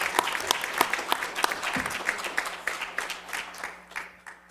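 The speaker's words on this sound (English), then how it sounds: "Please, a round of applause." Audience applause at a college Martin Luther King Jr. memorial program, a fairly sparse patter of claps from a modest crowd, steady for a few seconds and softening toward the end.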